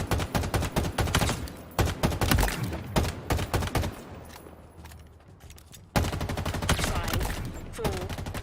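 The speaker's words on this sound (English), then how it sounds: "So that's the assault rifle audio in Halo Infinite." An assault rifle in Halo Infinite fires in rapid bursts of sharp, dry shots, pausing for a quieter stretch before automatic fire resumes loud and continuous.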